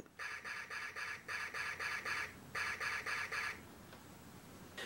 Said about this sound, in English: The laser also still works, and it also makes that very unique sound